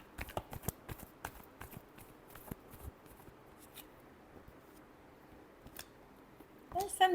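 Tarot cards being shuffled for a final time, heard as a quiet series of soft, brushy card riffles and taps spread across several seconds, with a louder handling noise near the end.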